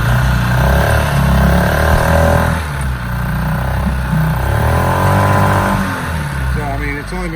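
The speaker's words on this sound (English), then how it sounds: "This is a 2015 outboard," A 2015 outboard engine on a Riviera 3600 Sport Coupe boat runs steadily at a loud, close idle, its rumble varying slightly in pitch throughout.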